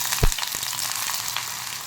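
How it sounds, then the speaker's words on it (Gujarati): Sliced onion dropped into hot oil with whole chillies and star anise for a beet and carrot dosa filling, giving a sudden loud burst of sizzling that settles into steady close frying. "અને બે થાય ને એટલે આ ડુંગળી એડ કરી દઈશું આપણે"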